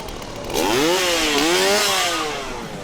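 A chainsaw revs loudly in the Chainsaw Horde at Halloween Horror Nights, its engine pitch rising and falling in a sustained whine for a few seconds, close by and alone.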